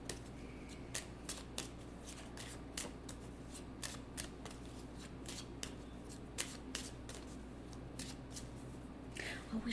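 Card deck shuffled repeatedly for a card reading, a run of crisp riffling bursts at a steady rhythm over a low constant hum, close and moderately quiet, with no talk.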